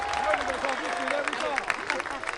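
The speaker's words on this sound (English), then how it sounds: "Make some noise for Bernie the Boxer." Crowd at a Bud Crawford event in Omaha applauding and making noise for Bernie the Boxer, scattered clapping and cheers mixed with chatter and a voice speaking over it.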